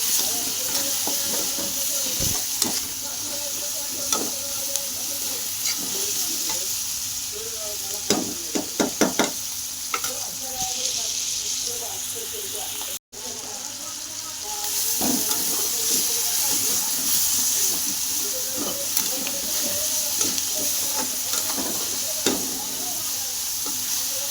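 Tomatoes and onion cooking with salt in a pan give a steady close sizzle and hiss with scattered stirring scrapes, a brief dropout midway, and faint background voices now and then.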